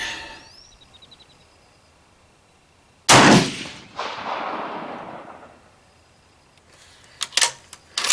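A single loud rifle shot from a Noveske AR rings out at an outdoor range, followed by a long decaying echo, with a few sharper cracks, likely distant shots, toward the end.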